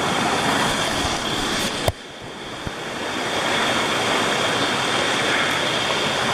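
A backcountry creek rushes steadily in Great Smoky Mountains forest near Elkmont, a broad continuous water roar with a brief knock partway through.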